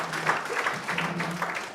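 A breakfast-briefing audience gives a modest round of applause for a volunteer named Keith, fairly faint and steady for under two seconds, with a voice talking over it.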